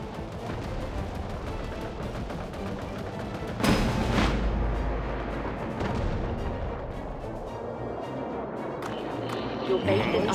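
Soviet guns and artillery booming in a World War Armies battle, a steady roar of dense gunfire with a heavier blast surge partway through, loud and continuous, mixed with game voice lines.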